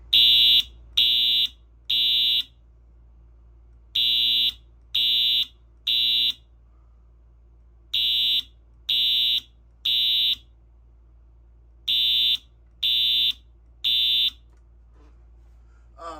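A 1990s FCI fire alarm system blares a code 3 pattern, repeated groups of three loud electronic tones, each burst separated by a short pause, alone with no talking.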